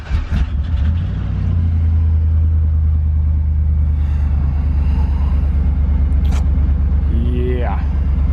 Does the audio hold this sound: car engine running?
yes